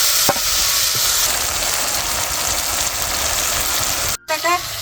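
Ground spice paste hits a hot pan for traditional kadhi and sizzles loudly and steadily as it is stirred, the frying close and continuous, with a brief break near the end.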